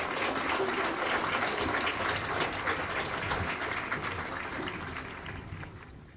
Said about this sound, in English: Let's give all of them a nice round of applause.